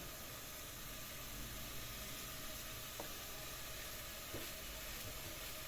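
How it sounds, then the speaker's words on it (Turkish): Onions frying in a pan give a steady broadband hiss and sizzle, faint but continuous, with a couple of soft clicks and no talk. "taraftan da soğanı kavruluyor"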